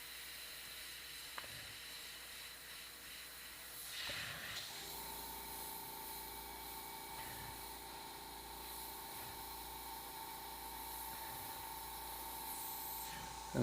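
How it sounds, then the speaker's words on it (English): An Iwata Micron airbrush sprays paint in a continuous soft hiss that steadies into a thin, even stream with a faint tonal whistle, running close and quiet throughout. "you're going to go in with your airbrush"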